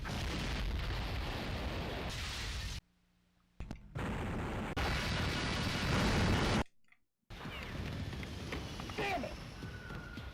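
Explosions and gunfire-like blasts blowing up miniature sets in the FMV video game Double Switch, loud dense bursts in three long stretches broken by brief near-silent gaps.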